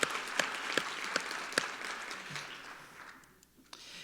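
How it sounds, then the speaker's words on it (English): An audience at a women's leadership keynote event claps in appreciation of the sponsors, a soft, distant applause that slowly fades away over a few seconds. "we're going to give an applause for our sponsors"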